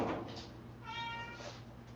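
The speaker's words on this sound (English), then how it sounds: "you just want to meow at me" A house cat meows once at close range, a short tonal call in the middle of a quiet room with no talk.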